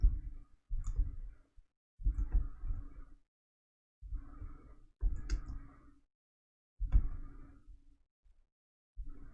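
Keys clatter on a computer keyboard while code is typed, in irregular bursts of quick clicks separated by short pauses, close and fairly quiet.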